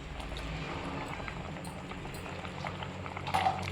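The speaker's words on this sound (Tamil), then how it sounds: "குழம்பு நல்லா கொதிக்குது ஃப்ரெண்ட்ஸ்." Mutton kuzhambu curry at a rolling boil in a pot, a continuous bubbling simmer heard alone at close range with a brief louder burble near the end.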